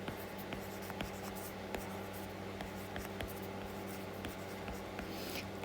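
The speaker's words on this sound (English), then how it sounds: "So if I'm going to write this out in words" A pen or pencil writes a number out in words on paper, scratching softly and steadily up close, with faint short strokes and tiny taps over a constant low hum, with no talking.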